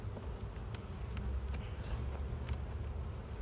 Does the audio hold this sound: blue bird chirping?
no